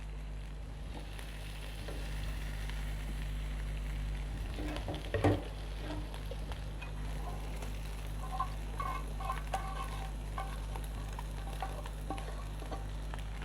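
Tikka kebab pieces and keema frying in a pan, a steady close sizzle with occasional stirring scrapes and small pops throughout.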